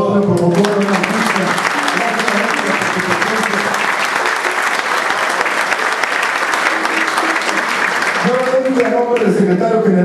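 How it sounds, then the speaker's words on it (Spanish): Loud, sustained applause from a large crowd at a cultural society event, with a voice speaking Spanish over it at the start and again as the clapping dies down. "un aplauso, por favor"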